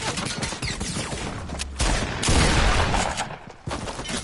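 Gunfire in Fortnite, a rapid burst of close, loud shots fired in quick succession with short gaps between volleys, cutting through background game noise.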